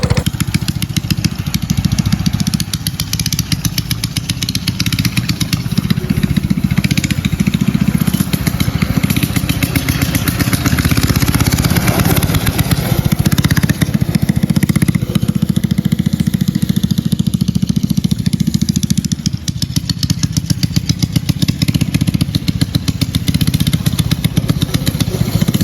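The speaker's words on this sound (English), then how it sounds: "I guess we're gonna ride the pit bike." A small pit bike with a 212 engine runs steadily while being ridden, a loud, continuous buzzing drone close to the microphone with slight rises and dips in revs throughout.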